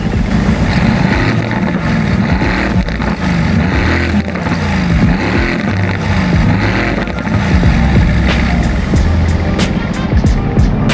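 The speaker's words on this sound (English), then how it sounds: "Just listen to that. You know what? I think we need to rev it." A Mercedes-AMG with a carbon front end and rear diffuser is revved hard, a loud, close, continuous engine roar that rises and falls through the revs without pause, and nobody speaks.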